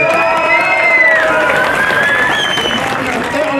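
An outdoor crowd cheers, whistles and applauds at the podium of the Trophée Andros ice race at Isola 2000, a loud continuous din with shouts and whistles riding over the clapping.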